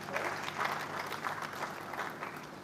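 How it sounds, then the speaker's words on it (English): Audience applause at a sustainable aquaculture development event in Africa, a steady wash of many hands clapping at moderate distance for a few seconds, with little else over it. "Can we give another round of applause?"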